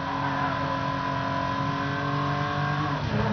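A car engine revving hard in the racing video game Midnight Club LA, a dense, loud, steady drone of engine harmonics holding high revs throughout, with a small dip and shift near the end.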